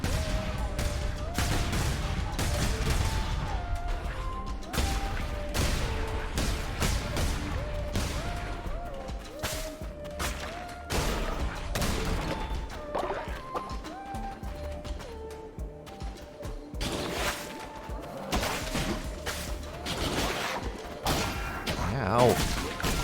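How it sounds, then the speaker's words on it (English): Explosions and combat in the video game Cult of the Lamb, rapid bursts of blasts and thuds layered over a busy melodic game soundtrack, continuous and dense with repeated sharp impacts throughout. "more explosions"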